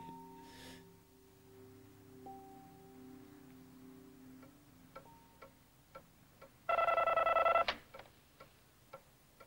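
In a quiet room in a French-dubbed crime drama, a telephone gives a single loud, bright burst of ringing lasting about a second. Soft ticking and faint tones fill the background.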